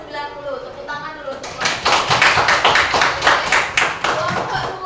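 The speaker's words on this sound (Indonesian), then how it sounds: "Tepuk tangan dulu" A classroom of children claps together for a group, a rapid burst of overlapping hand claps starting after a second or so of talk and continuing loudly, with voices mixed in.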